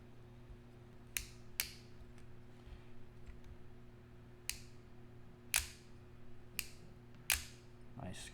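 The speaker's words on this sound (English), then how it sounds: "Nice crisp closing sound of the bail." Several sharp, crisp mechanical snaps spaced irregularly over a faint steady hum, close by and fairly quiet, a fishing reel's metal bail clicking shut.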